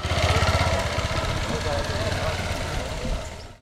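Motorcycle carrying a couple with two children struggling along a muddy dirt road in São Sebastião, its engine a loud, close, steady rough drone throughout.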